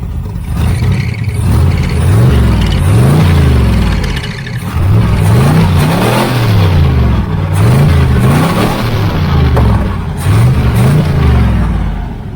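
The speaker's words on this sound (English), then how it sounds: "yeah, this one revs up real good." A 1980 Camaro Z28 engine with a new Holley-style four-barrel carburetor revs up and down repeatedly in a regular rhythm, loud and close, each rise and fall of pitch clearly audible.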